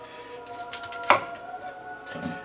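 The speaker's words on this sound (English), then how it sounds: "get a nice sharp knife, and just bring it down and take it off the cob." A sharp knife cuts grilled corn kernels off an upright cob, giving one distinct close chop against a board, then softer scraping and a faint knock, with no one speaking.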